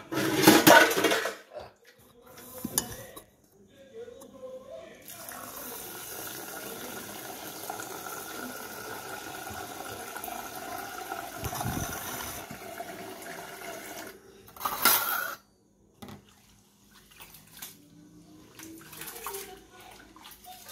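Water runs and splashes from a tap while dishes, pots and rice are washed, with metal vessels clattering and scraping in bursts, pausing between rinses, close and fairly loud.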